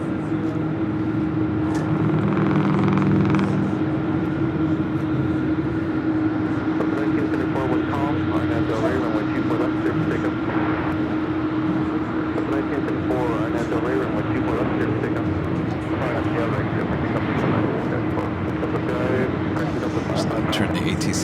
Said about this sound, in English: Followed by Southwest Airlines flight 2075 coming in from Denver and a 737-700.